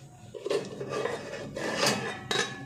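A metal lid clatters onto a cooking pot of boiled milkfish, with a few close scraping and clinking knocks of metal on metal, the loudest near the start and end.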